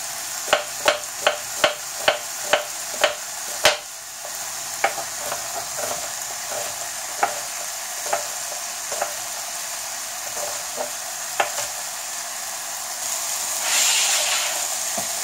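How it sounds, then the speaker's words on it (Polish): A kilogram of pork ribs browning on both sides in a hot 28 cm frying pan, a steady dense sizzle with a series of sharp ticks and taps that thin out over time, near and even, no talking. "rozgrzewamy patelnię i obsmażamy z obydwu stron na rumiano"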